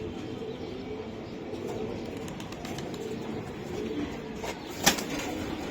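Giribaz high-flyer pigeons coo faintly in a loft, with a low, steady murmur and a sharp flutter or click near the end.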